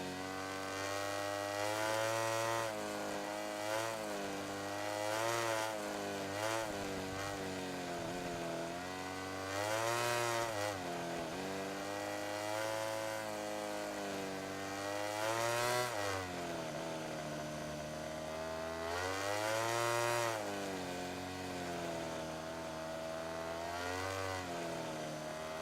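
Motorcycle engine in MotoGP 17 revving continuously and loudly, the pitch climbing and dropping as the throttle opens and closes through corners, with no talk over it.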